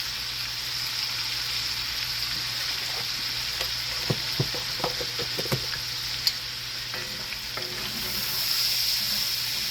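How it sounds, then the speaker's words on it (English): Shrimp frying in hot oil with chili, giving a steady, dense sizzle throughout, broken by a few soft clicks and taps from stirring. "I'm just gonna cook those shrimp right on in this chili, in that oil."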